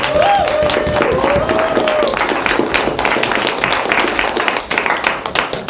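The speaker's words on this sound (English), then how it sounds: "Let's give one more round of applause." An audience gives a round of applause for election candidates, dense sustained clapping from a crowd heard nearby throughout, with a brief voice under it near the start.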